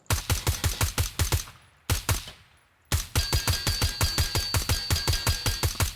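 Rapid pistol shots ring out in the tactical shooter Ground Branch, sharp evenly spaced bursts of reports up close, a brief pause, then a longer string of fast regular shots.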